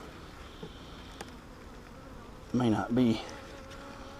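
Honey bees hum in a steady low drone inside a hive under spring inspection, a colony left weak after winter, while a person speaks a few brief words over the buzz.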